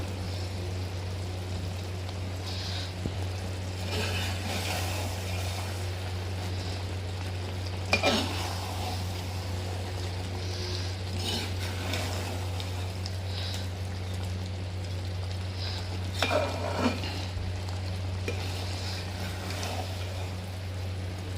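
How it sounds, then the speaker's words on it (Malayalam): Coriander leaves and pepper being stirred into chicken in a pan, a steady sizzle with soft scraping from stirring and a few louder knocks of the utensil, over a constant low hum. "ഇതിലോട്ട് കുറച്ച് മല്ലിയിലയും കാൽ ടീസ്പൂൺ കുരുമുളക് ചേർത്ത് മിക്സ് ചെയ്യാം"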